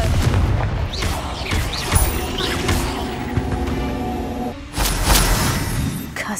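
Spell blasts of the Confringo fire curse go off during combat in Hogwarts Legacy, a string of loud booms and crackling impacts over busy game noise, with a louder burst near the end.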